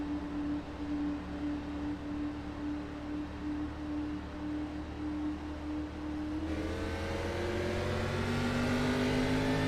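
Race car engines drone steadily in a racing video game under caution, then rise in pitch and loudness as the field accelerates at the restart.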